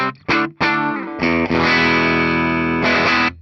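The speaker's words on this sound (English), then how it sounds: "Do that same test with our bridge pickup. That's just its regular tones." A Gibson ES-Supreme electric guitar played through its bridge pickup rings out in loud, sustained chords and notes with a bright, twangy edge, starting with short stabs and then settling into long held tones with no talking.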